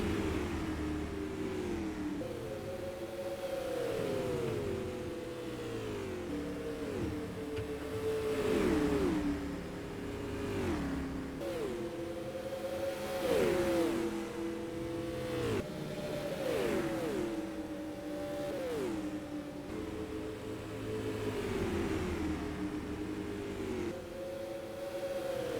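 Non-wing supermodified race cars circle an oval track at the Copper World Classic, engines rising and falling in repeated revving passes heard from a distance, steady and continuous with no talking.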